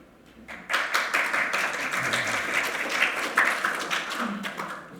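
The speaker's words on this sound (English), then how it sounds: "Well, you should be applauded." Seminar audience breaking into applause, a dense, moderately loud burst of many hands clapping that continues for several seconds before tapering slightly.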